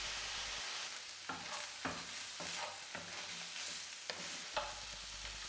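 Chicken livers fry in a pan with a splash of brandy, a steady sizzle broken by several sharp scraping stir strokes and clacks spread across the clip, with no voices.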